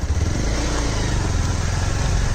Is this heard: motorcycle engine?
yes